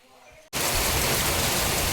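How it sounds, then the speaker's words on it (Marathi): The first heavy rain of May in the Konkan begins abruptly after a quiet moment, becoming a loud, dense, steady downpour close by, with a voice speaking faintly before it starts. "एकदम सरसरावून पाऊस लागता."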